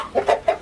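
Farm chickens clucking in short bursts, four brief calls spaced evenly and close by, with no talk over them.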